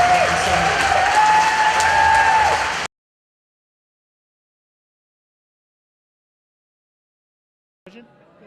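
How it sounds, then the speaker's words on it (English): Loud crowd applause with some cheering at a Walker Stalker fan convention, filling the first three seconds densely before cutting to silence, with a faint brief sound near the end. "Let's have a big round of applause for Judith and Tyro."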